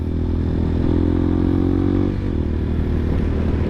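A CSC TT250 dual sport motorcycle being ridden: a loud, steady engine drone at close range, with a rise in pitch midway before it settles back, over constant wind and road noise.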